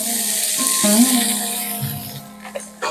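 Cauliflower, carrot, capsicum and potato pieces frying with onions in a pan, a loud close sizzle with spatula stirring scrapes and a brief bump near the end, no voices.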